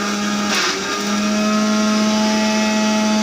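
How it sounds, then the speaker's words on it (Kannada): A mixer grinder runs steadily, blending boiled raw mango in its jar into a paste with a loud, continuous motor whine and a grinding buzz, no voices. "ನೋಡ್ರಿ, ಮಿಕ್ಸಿ ಜಾರ್ಗೆ ಮಾವಿನಕಾಯಿ ಬೆಂದಿದೆ, ಅದನ್ನ ಹಾಕೊಂಡು ರುಬ್ಕೊಳ್ಳನ್ರಿ"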